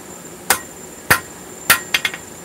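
A blacksmith's cross peen hammer strikes hot metal on an anvil in sharp ringing blows, three evenly spaced hits followed by a quicker cluster of three lighter taps, close and clear without talk.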